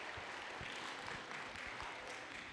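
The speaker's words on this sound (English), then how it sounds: "one more round of applause" Steady round of applause from a middle school assembly audience, cheering eighth graders; dense, continuous clapping at even level throughout, with no one speaking over it.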